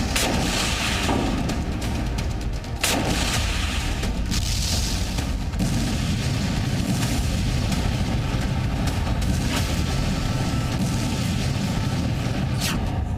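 Missile and explosive blasts pound Israel during an Iranian night attack: a dense, unbroken roar of rumbling detonations with a couple of sharp, louder bursts standing out, loud and continuous throughout.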